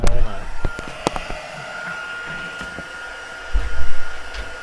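A hair dryer blows with a steady, even whoosh, running continuously under a few sharp handling clicks and bumps, with a low rumble swelling near the end.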